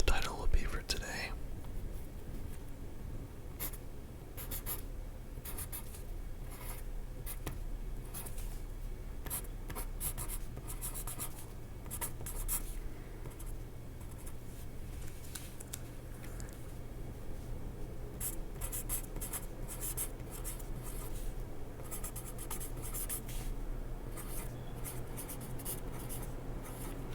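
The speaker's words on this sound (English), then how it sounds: "let's go ahead and write what the title will be for today." Pen scratching steadily across paper, close and continuous with brief strokes and pauses, soft whispering now and then over the writing.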